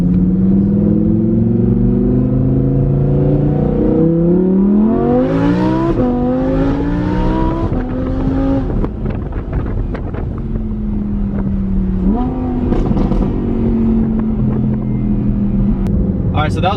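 Inside a moving car with windows down, a constant rush of wind and road roar fills the cabin while a voice and shifting engine tones come through.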